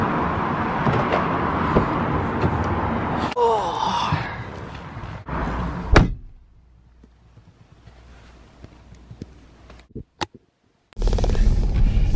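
Inside a moving car heading home after boxing training, a steady low road-and-engine rumble fills the cabin, drops to a quiet hush midway, then returns loudly near the end; no one speaks.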